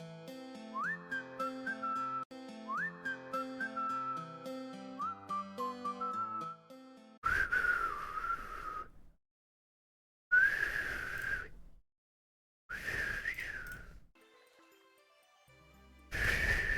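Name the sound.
person whistling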